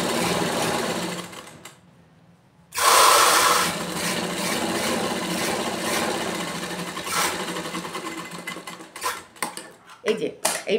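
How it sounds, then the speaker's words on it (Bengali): Sewing machine stitching a long seam along a nightie, a loud steady mechanical run after a short quiet gap, with someone speaking over the whirring. "এই দেখো এইভাবে পুরো লম্বাটা সেলাই করে দেবো।"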